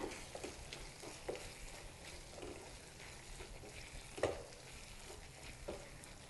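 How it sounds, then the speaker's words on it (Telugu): Garam masala being stirred into a broad bean and tomato curry, quiet soft sizzling with intermittent spoon scrapes and one louder knock against the pan, close by and without speech. "గరం మసాలా వేసిన తర్వాత ఒక్కసారి గరం మసాలా కర్రీ అంతా కలిసేలాగా కలుపుకుందాం"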